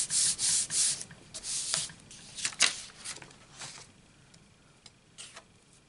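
A scrap of paper is rubbed firmly over an inked rubber stamp, giving several close, dry swishing strokes in quick succession that grow softer and more scattered toward the end.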